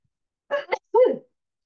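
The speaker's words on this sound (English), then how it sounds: "oh, I'm going to sneeze, excuse me" A single sneeze: a short breathy intake, then a sharp voiced burst that trails off, close and fairly loud, with quiet before and after, during pamphlet bookbinding with waxed thread.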